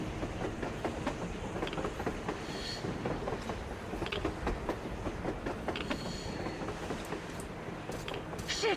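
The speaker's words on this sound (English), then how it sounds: "A damn train on the surface!" Clattering train wheels rolling on rails in the video game Metro Exodus, a steady rhythmic clickety-clack with the rumble of the carriages passing at a moderate distance.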